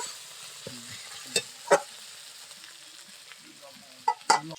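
Chopped tomatoes and salt fry in a pan in a village-style kitchen, giving a faint, low sizzle broken by a few sharp utensil clicks and taps. No one speaks.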